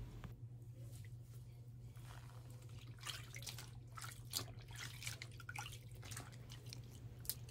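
Water running in a bathroom sink while a wig is washed with shampoo, a faint splashing and sloshing with uneven bursts of liquid over a steady low hum.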